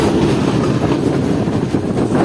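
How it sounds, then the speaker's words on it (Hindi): Sir Syed Express passenger train rolling along the rails toward the main platform at Sangla Hill junction, heard from on board as a loud, steady rumble with rhythmic clickety-clack from the wheels. "तो मेन प्लेटफॉर्म की तरफ मूव कर रही है ट्रेन"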